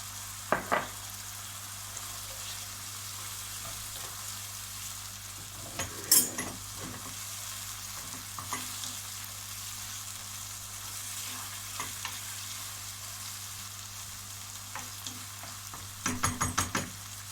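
Onions sizzle steadily in a pan for a colourful summer vegetable pilaf, with a constant hiss of frying under occasional spoon stirs, scrapes and light clinks against the pan.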